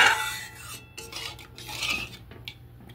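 Metal spoon stirring Bengali mustard fish gravy with parshe fish in a pan, scraping and rasping strokes against the pan in an uneven rhythm, close and moderately loud, no talking.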